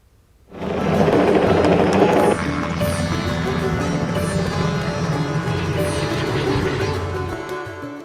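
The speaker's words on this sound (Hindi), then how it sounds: "हरिद्वार में कुंभ मेला दिखाने के लिए ये हेलीकॉप्टर सेवा 30 अप्रैल तक चलेगी" A helicopter flies over the Kumbh Mela crowds at Haridwar. A loud, steady engine and rotor roar swells in after a brief quiet moment and holds through to the end.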